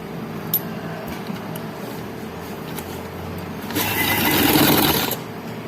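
A sewing machine stitches a folded fabric edge, a steady whirring run of about a second and a half after a quieter stretch, close and alone.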